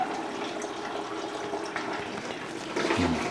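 Coolant drains from a loosened hose on a VW Mk5 GTI, a soft steady trickle and splash that swells slightly near the end, heard close but fairly quiet.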